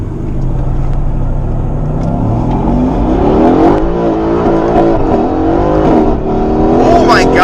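Tuned Mercedes-AMG daily driver making about 650 wheel horsepower, accelerating hard on a highway, its engine note climbing steadily and loud throughout with shifts in pitch, and a voice speaking over the engine.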